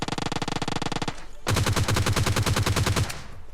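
Automatic gunfire in the battle-royale video game PUBG Lite, during a solo-versus-squad match: two rapid, evenly spaced bursts of loud shots, the first about a second long, then a short pause before a longer, heavier burst.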